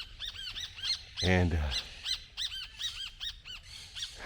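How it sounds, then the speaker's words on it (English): Several sparrows repeatedly chirp and call in an agitated chorus, scolding an intruder in Brazil; someone speaks briefly partway through, over the steady calls. "There's some sparrows back there that have just flown in. He's on the move now, so they're yelling at him."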